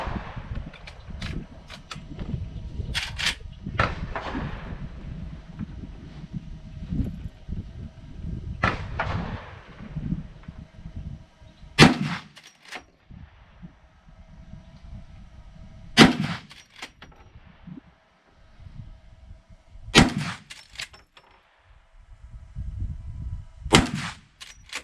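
Henry Model X .44 Magnum rifle fired outdoors, loud sharp shots spaced several seconds apart, with clanking and handling noises between them.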